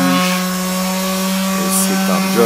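Bosch PSM 200 AES electric sander working outdoors on several layers of old paint, producing a loud, steady motor drone with a buzzing tone and faint scraping variations throughout.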